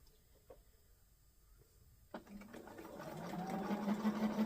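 A domestic sewing machine stitches a Sunbeam quilt, starting with a few faint clicks and then running in a steady, rising mechanical whir that grows louder toward the end, close up and with no one talking.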